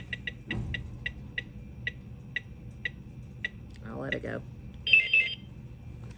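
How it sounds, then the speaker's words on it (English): A teacher's remote random picker makes a rapid series of small electronic clicks that slow down gradually, then a short beep; a voice speaks briefly partway through. "you can hear it clicking and timing"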